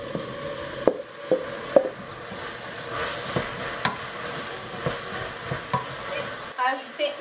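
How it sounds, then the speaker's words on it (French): Aubergines and courgettes go into a hot pan in a home kitchen, a soft steady sizzle rising under a series of sharp utensil knocks and scrapes, close and moderately quiet, ending in a brief pause. "je vais ajouter mes aubergines et mes courgettes tout de suite."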